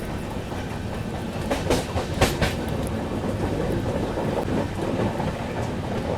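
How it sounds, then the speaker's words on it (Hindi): DMU local train hauled by three diesel locomotives passing close by, a steady heavy rumble with rail clatter and a few sharp bursts, loud throughout with no talk. "तीन डीजल लोकोमोटिव के साथ जा रही है डीएमयू लोकल ट्रेन।"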